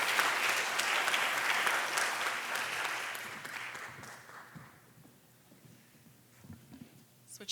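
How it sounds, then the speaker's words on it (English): Audience applauding a panel on stage at an evening talk about Black quilts, a full room clapping loudly and steadily, then tapering off to scattered claps and quiet. "let's have one more round of applause for everyone who's here tonight on stage and beyond."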